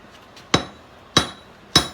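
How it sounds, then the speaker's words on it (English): A hammer strikes three times, spreading material down with sharp, ringing blows at a steady pace. The hits are close and loud against a quiet background. "You kind of want to like hammer it there so it's going to start spreading it down."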